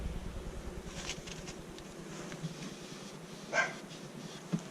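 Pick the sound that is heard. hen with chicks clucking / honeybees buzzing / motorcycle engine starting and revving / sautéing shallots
honeybees buzzing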